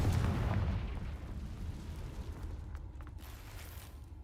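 A Confringo fire spell explosion in the Hogwarts Legacy video game: a heavy low boom at the start that rumbles and fades over several seconds, followed by a few faint crackles and small pops.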